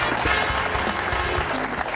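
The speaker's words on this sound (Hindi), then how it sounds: "जोरदार तालियां हो जाए" A studio audience applauds loudly for a contestant's correct answer on a quiz show. Thick, continuous clapping fills the whole moment, with almost no voices.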